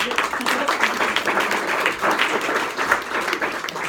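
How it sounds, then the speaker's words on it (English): An audience at a lead generation coaching session applauds a speaker named Samuel, dense clapping that stays fairly loud and steady, with some voices mixed in. "let's give Samuel a quick round of applause"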